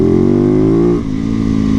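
Motorcycle riding on a city street, a loud close engine drone whose pitch falls slightly, then a brief dip as the throttle eases before the steady hum returns.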